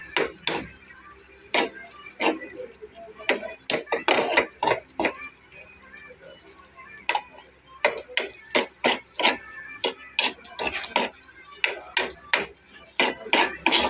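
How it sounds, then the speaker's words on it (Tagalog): A spatula scrapes and clacks against a pan while garlic and onion are stirred for giniling na sisig. Sharp knocks come in irregular bursts, loud and close, with quieter stretches in between. "haluin lang natin siya guys. Para maluto natin yung bawang sibuyas"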